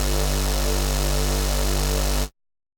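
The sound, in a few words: synth bass with square waveform under distorted wavetable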